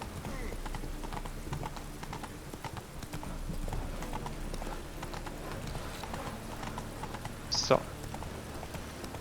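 Roach the horse trotting in The Witcher 3 game, steady hoof clip-clops running under a voiceover and background game sound, with a brief whinny-like tone near the end.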